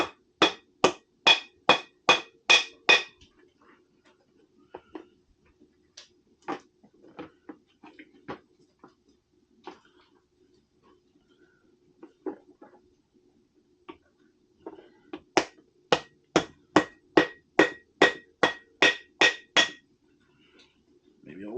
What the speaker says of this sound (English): Then you just have to punch out the holes for